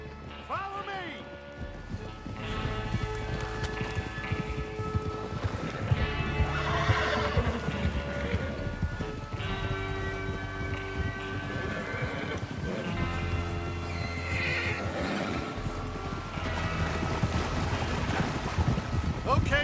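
Horses neigh and hooves clip-clop in the Red Dead Redemption 2 video game as riders set off, with occasional whinnies and hoofbeats under a swelling orchestral score and wind.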